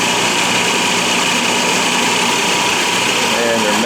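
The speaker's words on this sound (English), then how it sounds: "they're lowering the jack screws now for the trip. You can hear the motor running." Motor lowering the jack screws on the Space Shuttle transporter, a loud steady high-pitched engine drone that holds constant throughout with broadband rumble, heard close.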